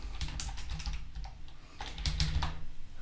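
Python code being typed on a computer keyboard in a text editor, with quick, steady keystroke clicks running throughout, a slightly denser burst near the end, and no voices.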